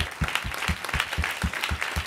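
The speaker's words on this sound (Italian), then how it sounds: "l'applauso va a loro, un applauso mio personale" Rhythmic applause at a music institute event, an audience clapping in unison at a quick steady beat, close and continuous throughout with no speech.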